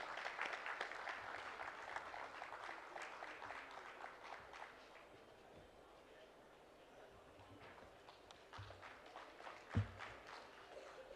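An audience applauds at a book launch session, a dense burst of clapping that is loudest at first and then thins out, heard from a distance.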